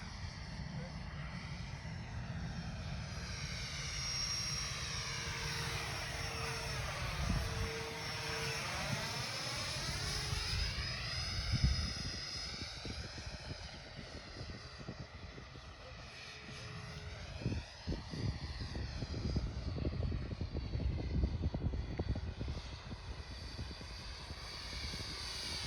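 An RC model plane flies overhead with a steady engine drone whose pitch sweeps up and down as it passes, mostly continuous and moderately loud, with people talking over it.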